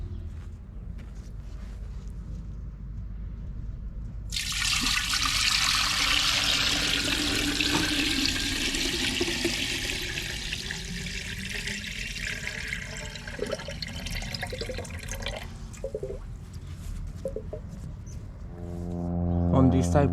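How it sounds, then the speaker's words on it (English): Water pours steadily into the metal hopper of a Villiers WAH WX11 engine with a loud rushing splash, continuing for several seconds before tapering off, a low hum underneath. "We'll fill it with water and start her up."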